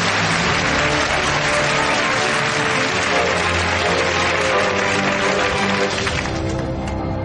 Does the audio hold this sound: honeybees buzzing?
no